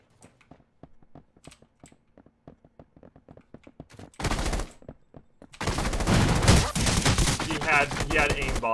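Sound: gunfire from Rules of Survival video game

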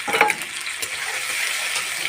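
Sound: potatoes and greens stalks frying in garlic oil

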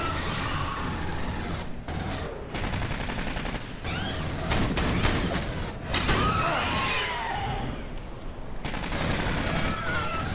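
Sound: turret gunfire in Aliens: Colonial Marines video game

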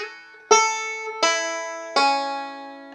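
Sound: banjo playing first measure of Cripple Creek

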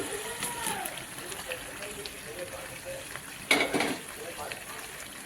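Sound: fried potatoes added to sizzling spice paste for chicken curry

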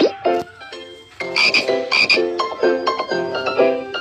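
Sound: tree frog croaking

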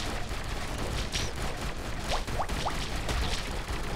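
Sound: cannon firing in a video game

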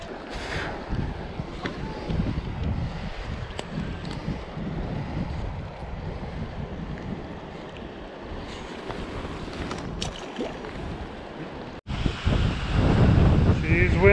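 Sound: wind

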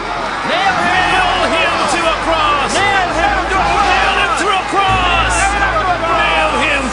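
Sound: crowd shouting, dramatized effect in Bible audio reading

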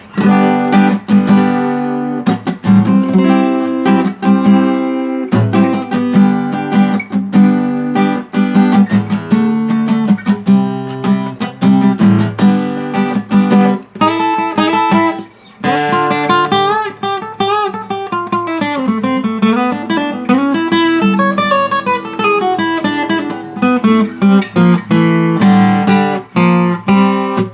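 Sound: acoustic guitar being played

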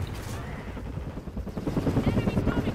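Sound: helicopter in video game Call of Duty multiplayer

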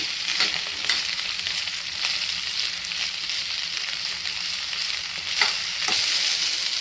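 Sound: okra frying in oil in a pan on medium flame

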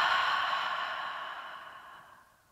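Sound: deep exhale through the open mouth

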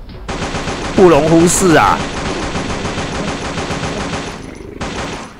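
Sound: AK rifle gunfire in video game Pixel Gun 3D

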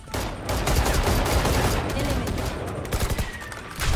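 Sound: gunfire in the video game Valorant

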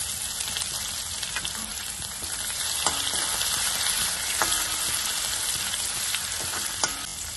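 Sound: crushed garlic frying in a pan for rasam

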